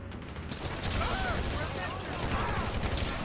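Gunfire in Grand Theft Auto V during a shootout at a rural property, with steady rapid shots and bursts crackling throughout, dense and continuous, mixed with game noise and some voices.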